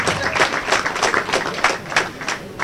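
A crowd applauds youth football coaches at a club presentation, with dense, lively clapping close by that stays steady and fairly loud throughout.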